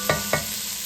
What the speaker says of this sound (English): So I'm just going to cook these onions for a minute or two, just until they get a little translucent.